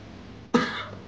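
A single short cough from a person in a radio drama, heard close and fairly quiet against a soft background, with no speech.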